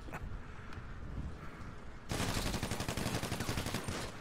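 Sustained full-auto gunfire in GTA V (FiveM roleplay), a rapid unbroken burst that starts abruptly midway and runs loud to the end, following a quieter stretch of game ambience.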